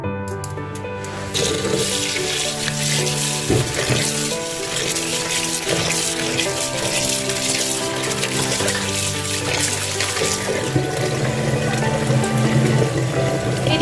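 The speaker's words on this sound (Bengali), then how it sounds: "বালতিতে ভেজানো আছে আমি এটাকে ভালো করে একটু ধুয়ে নেব" Cabbage and pumpkin leaves are washed by hand in a bucket of water, giving a steady, close splashing and sloshing that runs throughout beneath a layer of background music.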